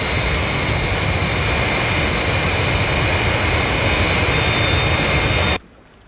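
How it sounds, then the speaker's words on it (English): The Fireflash aircraft from Thunderbirds takes off with a loud, continuous jet roar and a high whine, holding steady for several seconds before cutting off abruptly into near silence. "Scott has made a good takeoff, Father, in the Fireflash."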